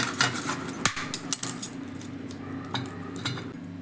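A knife slices a large lemon in half, making a few sharp taps and clicks of the blade against the cutting surface, close by, with quieter handling noise between the cuts and no talking.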